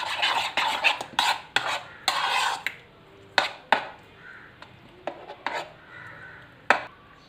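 Spices and sauces, including chili garlic sauce, being stirred into raw chicken for a crispy popcorn chicken marinade: a run of close, irregular scraping and clinking taps of a utensil against a bowl, with no talking.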